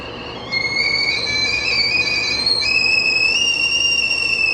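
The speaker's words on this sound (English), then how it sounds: "That's the whistling sounds of my teapot letting me know that my tea is ready to go." A stovetop tea kettle whistles steadily as its tea water boils, a continuous shrill two-tone whistle that starts abruptly, holds loud and close, and wavers slightly in pitch throughout, with no talking.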